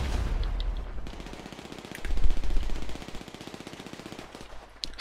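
Video game gunfire: a sustained burst of rapid machine-gun fire swells loud in the middle, then trails off into scattered shots and background noise.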